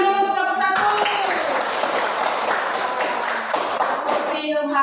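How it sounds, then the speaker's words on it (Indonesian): Classroom applause for a student group at a junior high school, a burst of many hands clapping together that fills the middle of the clip, with voices heard before and after it. "Kita tepuk tangan dulu untuk kelompok 1"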